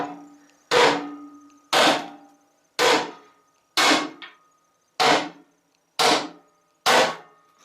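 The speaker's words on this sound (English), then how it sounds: "What you gonna do is take a hammer." A hammer strikes an Ariens ST824 snowblower gearbox seven times at an even pace of about one blow per second, each a loud, sharp metallic clank with a short ring-out, heard alone.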